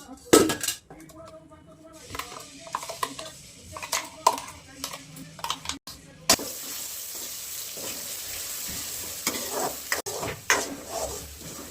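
Masala fries in oil in a pan with metal stirring clinks, and a broad steady sizzle swells in halfway through. Utensils tap the pot in scattered knocks.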